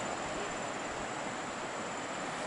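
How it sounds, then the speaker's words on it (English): Abrams Falls heard from a distance on the trail: a faint, steady broadband rush of falling water, even and unbroken for a couple of seconds with nothing else over it. "I hear the waterfall."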